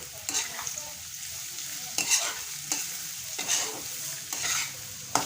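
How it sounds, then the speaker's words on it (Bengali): Papaya pieces fry in hot oil with a steady close sizzle, broken by several bursts of stirring scrapes at intervals, and nobody speaks. "আজ আমি পেঁপেগুলো দিয়ে দিচ্ছি তেলটা একটু গরম করে নিলাম"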